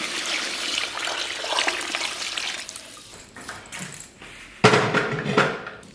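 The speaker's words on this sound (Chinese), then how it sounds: "然后咱们给锅里边稍微来点水。" Water is poured into a wok of stir-fried aromatics and soy sauce for braising pig trotters, a steady trickling splash that fades midway, then a louder burst of sizzling or pouring near the end.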